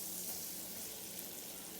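French toast frying in butter in a pan just after being flipped, a soft, steady, fairly faint sizzle with no talking.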